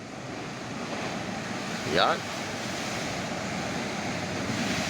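Big waves surge and roar during a typhoon, a steady churning wash of surf mixed with wind noise, with a brief louder burst in the middle and a person speaking briefly.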